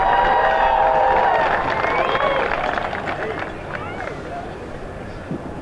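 Outdoor crowd noise at an all-star high school football game rises as a broad, steady roar of applause and cheering from the stands, strongest at first and easing gradually.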